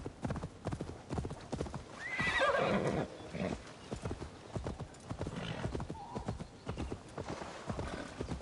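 A ridden horse gallops in the video game Assassin's Creed Valhalla. Rapid rhythmic hoofbeats continue steadily, with a loud whinny near the start.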